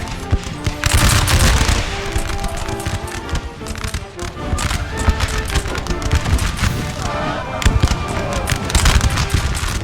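Dense musket volleys and scattered gunfire crackle continuously through a large Napoleonic battle in the Napoleon Total War 3 video game, as Prussian regiments fire through bushes and forest, loud and sustained with overlapping shots throughout.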